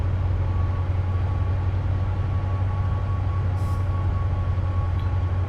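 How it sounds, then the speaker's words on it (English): A Class 70 diesel locomotive in Train Simulator on the South Wales Coast route rumbles steadily with a deep, constant engine drone and a faint tonal whine, with no talking. "Come on, train, get on with it."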